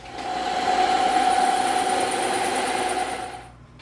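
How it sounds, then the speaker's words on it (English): A bandsaw cuts a notch in EVA foam with a steady, loud whirring hum for about three seconds, then drops away abruptly at the end. "Now we're going to do this cut and we're going to do this notch on the bandsaw."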